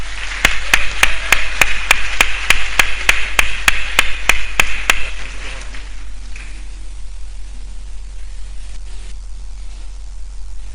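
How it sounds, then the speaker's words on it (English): A crowd applauds Peter Obi at a gathering marking Governor Alex Otti's second year in office: a dense wash of clapping with sharp, evenly spaced claps on top. It fades away after about five seconds. "A round of applause once again for him."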